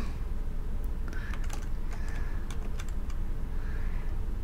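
Rapid typing on a computer keyboard while playing a free 2D game, a steady run of close, crisp key clicks over a constant low background hum, with no talking.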